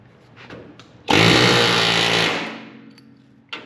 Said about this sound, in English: make sure when you use your air hammer, you're not getting this seam right here